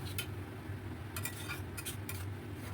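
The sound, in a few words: stirring and frying spice paste with sour curd in a pan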